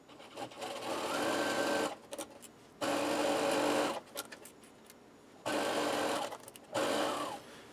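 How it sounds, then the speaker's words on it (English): Sewing machine stitching the seams of a fabric grocery bag: loud, steady motor whirring in four runs of one to two seconds each, separated by brief pauses with light clicks and handling noise. "So let's sew that."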